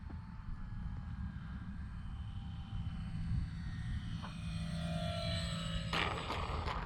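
A Durafly Ugly Stick V2 RC model airplane flies over an empty afternoon field, its faint electric motor whine drifting in pitch at a distance over steady wind and outdoor ambience.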